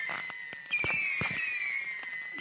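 Fireworks cakes fire off rapidly in all directions, a dense run of sharp cracks and pops layered over a steady high whistle, loud and close, with no talking.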